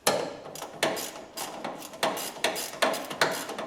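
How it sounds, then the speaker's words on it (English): Stubby ratchet turning a bolt under a 1967 Mustang during transmission and bell housing removal, a steady series of about eight sharp clicking strokes, close and fairly loud. "now I've got my stubby ratchet so I can actually twist it"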